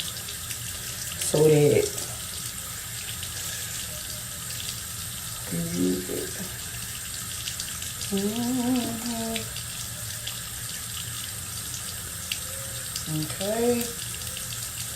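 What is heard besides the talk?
water running from tap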